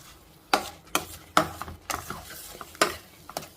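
Bobbatlu filling stirred in a pan on high heat, with quick scraping strokes of a spoon against the metal at an uneven rhythm over a low sizzle, close and clear with no talking.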